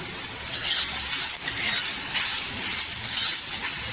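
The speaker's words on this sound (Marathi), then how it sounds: "गोल्डन कलरवर छान असा कांदा भाजून घ्यायचा" Onion and garlic sizzle steadily in hot oil in a pan while being stirred, a close, continuous frying hiss with soft scraping movements and no talk.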